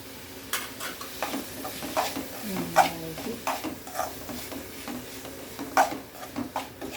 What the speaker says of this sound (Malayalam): നമ്മൾ തക്കാളി നല്ല വഴന്ന് വരുന്നവരെ അത് വഴറ്റി കൊടുക്കുക